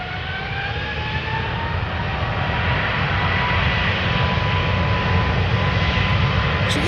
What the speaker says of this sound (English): this is United Flight 71, 777-200, going to Newark